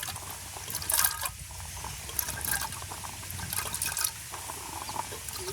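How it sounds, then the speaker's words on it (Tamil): Soaked chickpeas and water are tipped into a cooking pot in a village kitchen in Vanni, making a steady, splashy pour and trickle with a brief louder gush near the start, with no voices. "நாங்கள் இப்போ ஊற வச்ச கடலையே பானைக்கு போட்டு அவிய விடுவோம்"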